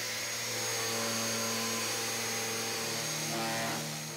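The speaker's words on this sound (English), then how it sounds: "with my Delta pad, I can sand in all the little nooks and crannies" A Delta pad sander works over wooden panelling cladding, a steady continuous motor whine with a buzzing vibration held close and loud, shifting slightly in pitch as the pad moves into corners.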